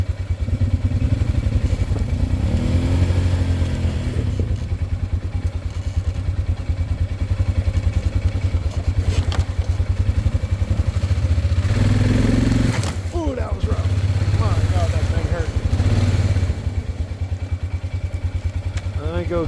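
A dirt motorbike on an off-road trail near a desert gun range climbs over a log, its engine running loud and close throughout and surging with throttle, with thumps and clatter as it crosses and speech underneath.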